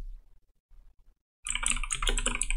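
Code is typed on a computer keyboard, a quick close run of clicking keystrokes that begins after about a second and a half of near silence with a few soft taps.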